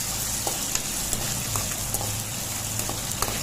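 Green chillies fry in a pan with a steady, even sizzle and a few small crackles and pops, heard close and alone.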